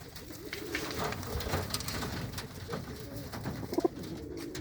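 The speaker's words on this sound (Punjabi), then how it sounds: "ਬੜੇ ਬੜੇ ਨਸਲਾਂ ਦੇ ਕਬੂਤਰ ਨੇ" Caged pigeons of several fine breeds, with rings on their legs, are kept in a small mesh enclosure. A brief nearby coo rises near the end over a steady backdrop of faint outdoor noise, with no talk.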